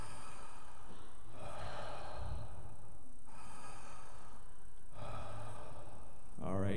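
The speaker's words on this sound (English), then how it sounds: "we're going to breathe in through our mouths and out through our mouths like this" A group of people breathes in and out through their mouths together in slow, heavy cycles, each long rasping inhale and exhale heard clearly, roughly three full breaths with brief quiet gaps between.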